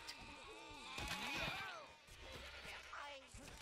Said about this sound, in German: hier gibt's noch Schafe und so.